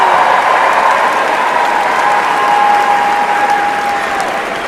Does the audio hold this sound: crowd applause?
yes